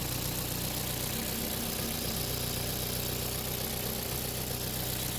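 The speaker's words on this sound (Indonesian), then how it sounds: "Untuk mesin juga ini ada pincang ya" A Ford car engine idles roughly with a misfire, a steady close, continuous low rumble running unbroken without any talk.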